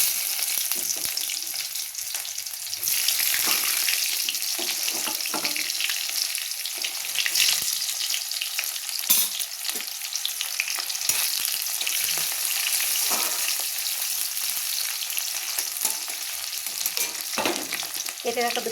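Onions fry in a hot pan with whole cumin and bay leaves, giving a steady, bright sizzle and crackle that continues evenly throughout, with occasional stirring clatter.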